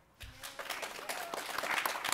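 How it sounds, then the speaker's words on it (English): An audience at a cosplay panel breaks into applause: a sudden swell of many hands clapping that starts a moment in and holds at a steady, dense, fairly close level to the end. "I'm gonna have a big round of applause for these guys"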